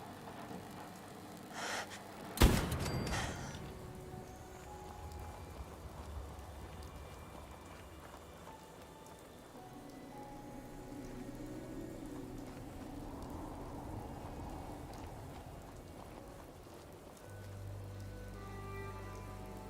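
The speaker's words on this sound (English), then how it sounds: "Wouldn't mind the rain stopping." Rain in the video game Fallout 4, a soft steady patter running under the gameplay, with a sharp thump early on and faint distant rumbles.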